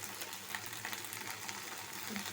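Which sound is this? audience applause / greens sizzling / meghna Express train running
greens sizzling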